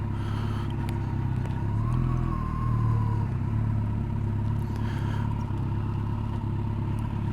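A car drives on new tarmac with a steady engine rumble and road noise, a brief rise in engine pitch partway through and some light clatter, with no talking.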